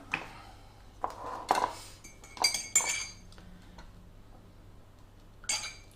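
A spoon stirring a mixture in a bowl, giving scattered metallic clinks and scrapes in irregular bursts at close range, with no talk.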